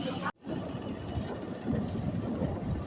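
A train carries passengers in Bengal, with a continuous rumbling ride noise and a brief dip near the start, then a faint high squeal against the steady roar.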